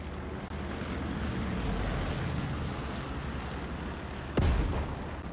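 Artillery bombardment in the World War II shooter game Hell Let Loose: a steady, dense rumble of distant shelling fills the whole stretch, broken near the end by one sharp, loud nearby blast.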